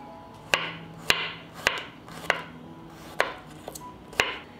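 Four garlic cloves are chopped with a knife on a board, about eight distinct evenly spaced knocks, close and clear with little else around.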